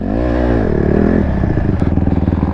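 Pit bikes ride on a dirt pit bike track, a loud nearby engine whining up in pitch and then dropping into a choppy, pulsing putter as the bike passes, with a brief clatter.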